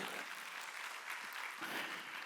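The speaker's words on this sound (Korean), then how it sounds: "히브리서 9장 10절에 읽은 사람만 박수 쳐야 하십시오" Congregation clapping during a Sunday worship service, a faint, steady wash of many hands heard from a distance, continuous and even with slight swells, no speech on top.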